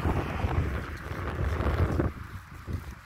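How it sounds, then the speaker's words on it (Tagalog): Strong wind buffets the microphone in heavy rain in Saudi Arabia, a constant low roaring rush that fills the whole moment and eases slightly near the end. "Malakas ang hangin"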